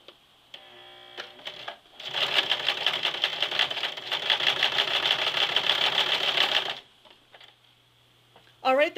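A sewing machine stitches down the top of a jeans waistband while a zipper goes in, one loud continuous run of rapid mechanical needle chatter lasting several seconds, preceded and followed by quieter handling clicks.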